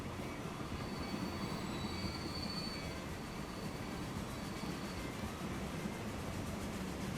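A mail train runs in the Transport Fever 2 railway simulation game, giving a continuous rolling rumble with faint wheel squeal and rail clatter that holds at an even level throughout, with no talk over it.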